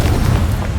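Confringo explosive spell detonating in Hogwarts Legacy, a loud, heavy booming blast that rumbles through the whole short moment, no voices present.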